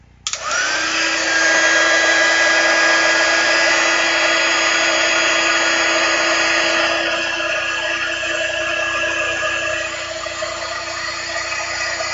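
Electric heat embossing tool switching on and blowing hot air in a continuous, steady whine and rush that holds for about twelve seconds, close and loud with no talk.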